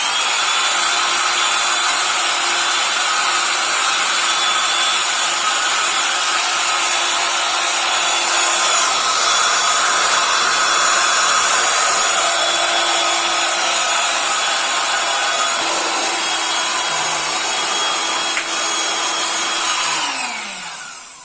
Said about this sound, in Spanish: con la sopladora entonces procedemos a secar el exceso de humedad que haya quedado